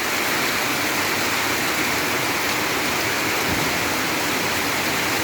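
Evening rain falls steadily in a dense, even hiss, loud and unbroken throughout, with no voices or other sounds over it.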